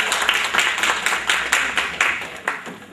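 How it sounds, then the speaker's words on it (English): Audience applause in a hall during a mental health program event, a dense burst of clapping from many hands that stays steady and loud throughout, with repeated sharp peaks as the crowd keeps clapping. "can you give a round of applause again for Miss Landon right there, Dr. Landon?"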